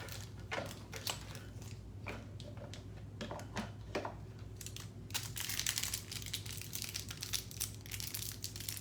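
Small plastic bags handled up close, with repeated crinkling and crumpling rustles in irregular bursts that grow busier toward the end, without any talk.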